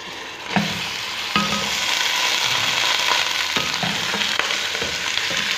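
Beef pieces fry with onions in a pan, producing a loud, continuous sizzle broken by repeated stirring scrapes and clatters of a spoon against the pan.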